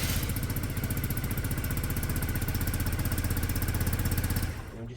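A Peugeot Satelis scooter runs steadily up close with an even, rapid mechanical pulsing, then cuts off abruptly just before the end.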